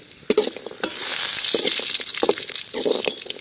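Grated coconut fries in oil for thengai mittai, with sharp scraping strokes of a spatula breaking up a bright, rushing sizzle, close and fairly loud, with no voices.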